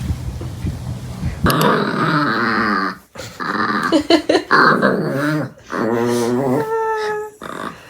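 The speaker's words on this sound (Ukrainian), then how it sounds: "У нас тут ще один песик." A dog in a small tavern café makes growly, grunting vocalizations and a few high whimper-like tones close by, mixed with a person's voice.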